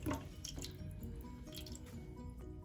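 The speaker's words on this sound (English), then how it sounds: "Hopefully you should see that start to trickle away as the water runs out." Water in a toilet cistern trickling away after a flush, heard as faint, close dripping and gentle trickling over a low steady background, with no voices.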